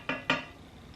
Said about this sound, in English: the hard part about this is constantly stirring it for 15 to 20 minutes until it's thick